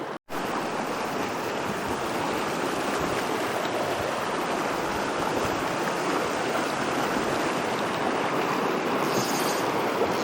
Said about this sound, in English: I love all the runs that you come across on this creek.